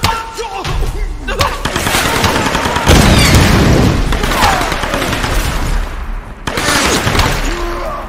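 Heavy gunfire in Tomb Raider Definitive Edition, loud sustained bursts and impacts with crashing debris, cutting out abruptly then resuming, with faint voices mixed in.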